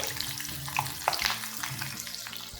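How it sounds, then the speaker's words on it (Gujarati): Chillies frying in hot oil for a crispy masala chivda, a soft continuous bubbling crackle with faint clinks, low and close, with a steady hum underneath and no speech. "એવી જ રીતે આપણે મરચાં પણ તળી લઈએ"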